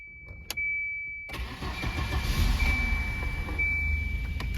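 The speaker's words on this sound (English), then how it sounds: "I think the engine is running pretty smoothly here." A car engine cranks and catches on power from a Solvtin portable jump starter, then settles into a steady, smooth idle that carries on close and loud after a brief silence and a click.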